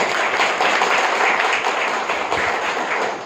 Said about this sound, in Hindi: तो बीच बीच में ताली बजा सकते हैं, थोड़ी बजाओ एक बार